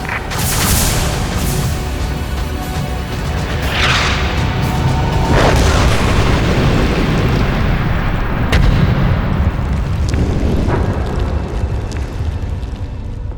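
An artillery barrage pounds a small Colorado town, with heavy booms and blasts rolling one after another over a dense, continuous roar of rumbling fire and debris, loud and close throughout.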